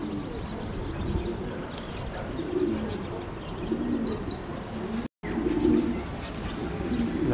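Pigeons coo in soft, low, repeated rolling calls at a racing competition loft, with a few chirps and a steady outdoor background; a person talks faintly at times.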